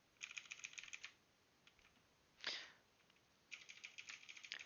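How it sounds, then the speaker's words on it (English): Computer keyboard keys pressed during a game of Hollow Knight: two quick bursts of soft, rapid clicking separated by a pause, close and quiet, with a brief sniff between them. "yes, I'm playing with a keyboard"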